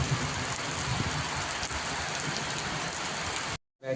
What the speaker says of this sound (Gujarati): હવે આવ્યો વરસાદ